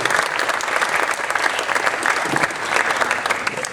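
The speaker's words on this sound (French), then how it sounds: "On peut les applaudir." Audience applause for the Sporting Club de Toulon football club after its promotion: steady, dense clapping from a sizable crowd, loud and continuous throughout with no voices on top.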